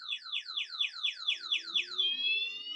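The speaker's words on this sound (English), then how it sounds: "Can I ride off with it even though the alarm's on?" Anti-theft alarm on an Ouxi V8 mini eBike, a loud close electronic whooping siren of rapid repeated downward sweeps, then a steady shrill tone, with no talk.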